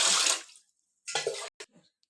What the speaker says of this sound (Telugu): వాటర్ వేసుకుంటున్నానండి ఇరవై ఒకటి గ్లాసులు వేసుకోవాలి